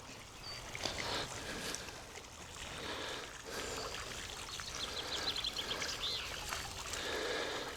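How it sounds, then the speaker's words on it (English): A small water feature at the back of a hotel overlooking Ullswater trickles and splashes steadily outdoors, a soft continuous wash of running water with faint birdsong and light ambient noise, no voices. "lovely little water feature"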